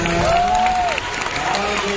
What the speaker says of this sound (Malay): Dia tepuk tangan dulu cikgu